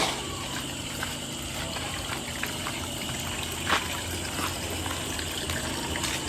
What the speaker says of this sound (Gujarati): તે પાણી સતત ચાલુ છે હમણાં પણ